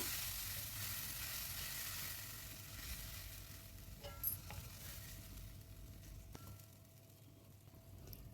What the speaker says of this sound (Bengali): এবার সব কিছুকে ভালো করে মিশিয়ে নেব